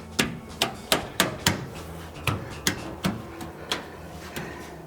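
Hand tapping chrome wheel well or rocker molding into place on a 1967 Camaro: about a dozen close, sharp knocks in an uneven rhythm, some in quick pairs, with brief gaps between.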